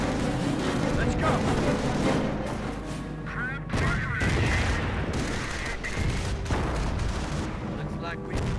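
Dense battlefield gunfire and explosions rage continuously in a Company of Heroes World War II battle at Montebourg, loud and close, with soldiers' voices shouting over the din.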